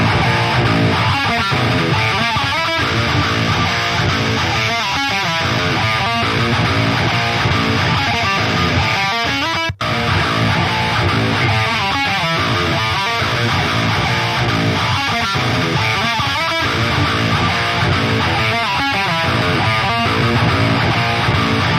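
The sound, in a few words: 8-string guitar riff through Neural DSP Fortin Cali Suite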